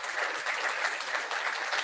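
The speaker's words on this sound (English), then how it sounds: "one last final round of applause for all of our folks that hit the Rule of 85" A club crowd applauds its long-serving members, a dense, steady patter of many hands clapping together without pause.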